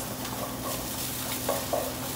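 Onions and sage sizzling and frying in a pan, a steady close crackle with a couple of brief stirring or utensil sounds, no talking.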